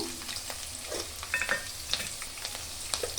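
Curry leaves sizzling in hot oil with green chillies for bread upma, a close crackling fry with sharp pops and spatter over a steady hiss.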